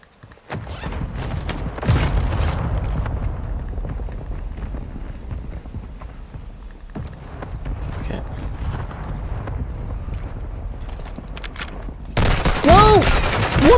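Gunfire in Warzone 2 rattles in dense, sustained bursts, easing off in the middle, then returning and ending in a louder, harsher volley.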